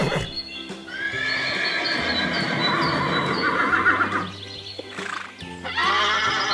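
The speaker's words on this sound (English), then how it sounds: "H for horse." A horse neighs in a loud, drawn-out whinny that fills most of the stretch, with hoof clip-clop and a steady low background tone beneath it.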